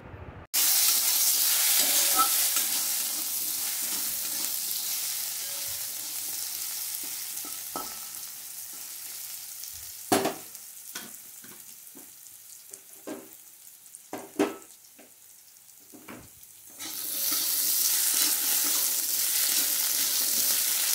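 Cut potato pieces frying in oil tempered with five-spice, dried red chilli and a bay leaf for a bottle gourd dish, a steady loud sizzle broken by scattered clinks and scrapes of stirring, quieter mid-way before the hiss swells again.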